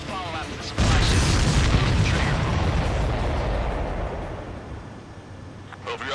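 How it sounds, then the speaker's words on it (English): A missile explodes on a supply ship in the Ace Combat 7 air-combat game: a sudden loud, close boom breaks in after a brief lull, then rumbles and slowly fades over several seconds. "Missile hit the supply ship dead on."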